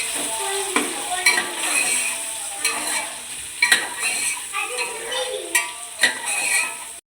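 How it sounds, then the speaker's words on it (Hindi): Sliced onions frying in oil in a pan, a steady sizzle broken by repeated stirring clacks and scrapes of a spoon, close and fairly loud, with no one talking. "तो प्याज को जो है वो अच्छे से हमने फ्राई कर लेना है"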